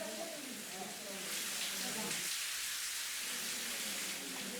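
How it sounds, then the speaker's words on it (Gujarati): Unseasonal summer rain with hail falls in Gujarat, a steady broadband hiss of rainfall that continues under a voice speaking over it at first. "તો જ્યાં એક તરફ કમોસમી વરસાદ વરસી રહ્યો છે"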